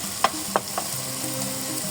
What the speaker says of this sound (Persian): یه تفتی بهشون میدم که این ادویه‌های ما از حالت خامی در بیاد